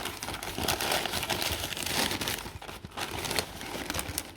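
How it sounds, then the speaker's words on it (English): Paper-wrapped fruit plant parcels being unwrapped up close, with loud continuous crinkling and crumpling of paper and a few short tearing rustles, and no voices. "Let me just unwrap them quickly."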